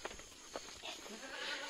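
A castrated billy goat on a farm at night gives a few faint, short bleats against a quiet background.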